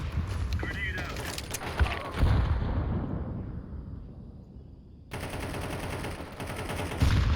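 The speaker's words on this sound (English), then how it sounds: "Grenade out." A grenade thrown in a shooter video game bursts loudly with rapid gunfire around it, and the blast rumble fades out before the firing starts up again. A player talks over the action.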